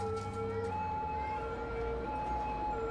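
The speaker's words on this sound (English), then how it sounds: "I hear another siren." Emergency vehicle siren in the Cities: Skylines city-building game, a steady wailing tone held at moderate volume over a low ambient game hum, continuous for three seconds with no voices.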